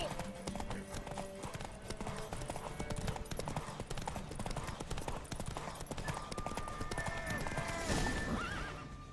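Rapid, rhythmic clip-clop of galloping hooves with a whinny during a horse race in the video game The Witcher 3, loud and close, under a layer of game sound effects and occasional talk.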